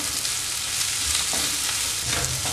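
Green chillies and spices sauté in hot oil in a pan for a potato roast, with a steady, close sizzle and occasional stirring scrapes running throughout and no talking.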